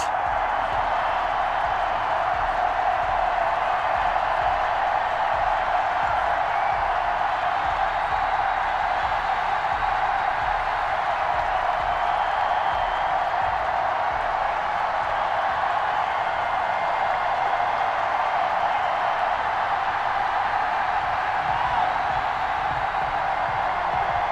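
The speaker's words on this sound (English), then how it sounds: "The enthusiasm of this Cincinnati crowd in full effect a moment ago as their Bengals took the field to the delight of this sold-out crowd" A sold-out stadium crowd in Madden 21 fills the air with a constant, loud roar that holds at an even level with no clear peaks and no speech.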